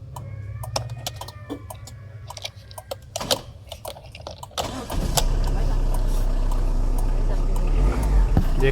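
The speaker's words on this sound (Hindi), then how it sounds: "इंजन की आवाज़ भी नॉर्मल हो गई है, इंजन नॉकिंग भी करना हट गया।" A 2011-12 Tata Indigo's engine cranks and catches, then settles into a steady, loud low idle heard close up, after a few seconds of clicks and someone talking.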